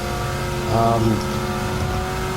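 A 1,000-horsepower Dodge Charger SRT Hellcat engine roars steadily up close, briefly swelling louder as it accelerates before settling back to a constant drone.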